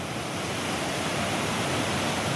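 The Dhuandhar waterfall on the Narmada near Jabalpur gives a dense, continuous roar of rushing water, a steady broadband wash with no breaks.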